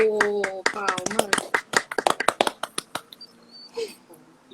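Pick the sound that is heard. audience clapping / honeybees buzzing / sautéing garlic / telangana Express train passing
audience clapping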